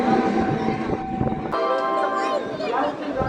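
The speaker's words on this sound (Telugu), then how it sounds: "బళ్ళారి జంక్షన్కి మన ట్రైన్ చేరుకుంది." A Hubli–Guntakal MEMU train pulls into Ballari Junction, with loud rumbling and rail noise heard from on board, then a sustained bell-like tone and squealing as it slows, and voices faintly under it.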